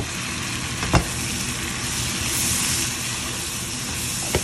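Shrimp drop into butter and garlic sizzling in a pan, a steady close frying hiss with a couple of sharp clinks from the pan.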